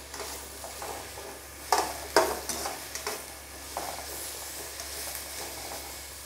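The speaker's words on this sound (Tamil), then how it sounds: "இந்த காளான் வந்து நல்லா வந்து நெய்லேயே வந்து வறுத்து எடுத்துக்கணுங்க ஃப்ரெண்ட்ஸ்" Mushrooms fry in hot ghee with a soft, quiet sizzle, broken by a few sharper scrapes and clicks as they are stirred.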